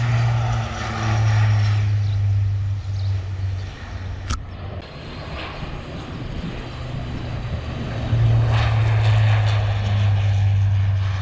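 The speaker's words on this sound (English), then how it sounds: "Let's look at this plane." Crop-spraying airplane passing over a wheat field, a propeller engine drone that swells, fades and returns loudly, heard outdoors with a brief sharp click midway.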